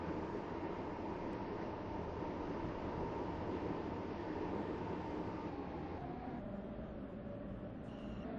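A train from the Stepford County Railway game runs steadily along the track, a continuous rumbling roar that holds at an even level throughout with no talk over it.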